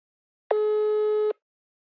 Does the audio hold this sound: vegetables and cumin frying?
no